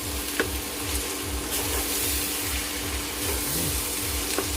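Chicken mixture with raisins and cashews frying together in a pan, a soft steady sizzle with regular rhythmic scraping of stirring, fairly faint and close.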